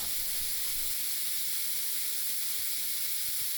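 Steady high-pitched blast of compressed air from a very high-airflow blowgun fed by a compressor, holding a constant, fairly quiet hiss for the full stretch with no voices.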